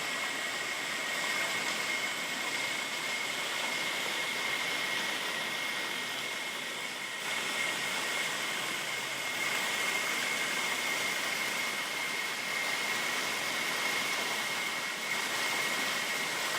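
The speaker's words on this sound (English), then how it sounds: "this is a pretty little waterfall" A small waterfall in rainforest at Crater Lakes National Park in Far North Queensland gives a steady, broadband rush of falling water that holds constant and fairly close throughout.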